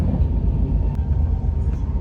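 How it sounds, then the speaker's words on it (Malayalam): A steady low rumble of a moving carriage on the Madras Mail train, with rhythmic rattling and a couple of faint clicks. "നല്ല ഈ ട്രെയിനിലൊക്കെ പോകാൻ നല്ല രസമുണ്ട്"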